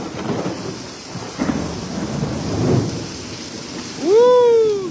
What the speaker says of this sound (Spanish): ¡Ay, otro rayo!